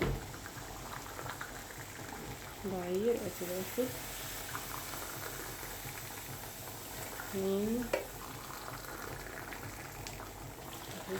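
Water bubbles at a steady boil in a pot throughout, close and continuous, while a voice briefly speaks over it twice.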